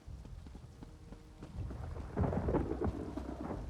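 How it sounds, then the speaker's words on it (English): Rain and a rumble of thunder in Elder Scrolls Online, a steady wash of rainfall swelling into a low, rolling boom about two seconds in, with no voices. "Let's get in out of the rain, shall we?"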